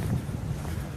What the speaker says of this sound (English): listen to that wind. It's not even that windy out, but windy enough to make noise.